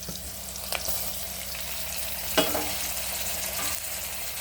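Chopped tomatoes hit oil in a frying pan while cooking arisi paruppu sadam, giving a steady sizzle with a few sharp clattering stirs and spoon knocks, close and fairly soft, with no talk.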